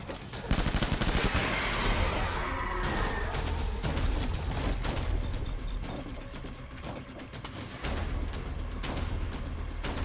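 Heavy gunfire in the video game Death Stranding, with dense rapid bursts and a sustained volley of shots, loud and close, continuing almost without a break.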